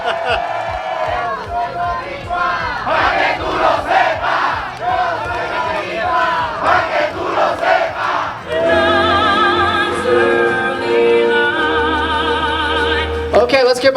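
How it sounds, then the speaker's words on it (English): Crowd at a Volkswagen Beetle show and awards event cheering and clapping after a presenter's call, with loud whoops and voices at first, then music and a steady tonal hum filling the later half. "give a big round of applause"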